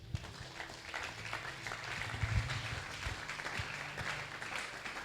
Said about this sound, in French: On peut acclamer le maître.